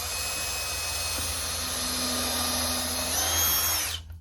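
A power drill whines steadily while boring pilot holes through a Harley-Davidson tour pack liner and expanded PVC sheet, holding a loud continuous tone before spinning down at the end.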